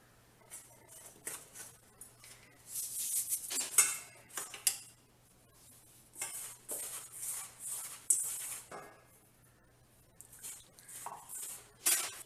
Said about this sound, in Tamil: இப்போ கொஞ்சம் கொஞ்சமாக நீங்கள் சுகரை ஆட் பண்ணி அந்த மாவோடு மிக்ஸ் பண்ணி